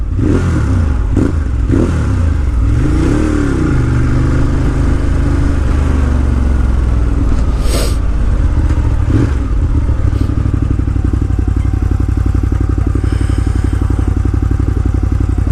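A 2018 Ducati Monster 1200S idles loud and close with a steady deep rumble, breaking into a few sharp throttle blips early on before settling back to a continuous idle with no talking.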